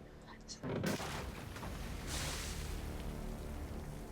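Explosion from the TV show Titans, a sudden loud boom that erupts abruptly and then rolls on as a sustained rumbling roar with crackling debris, sounding like gunfire or artillery blasts.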